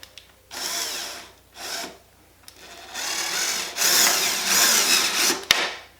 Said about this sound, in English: And I'm going to start my screw right here.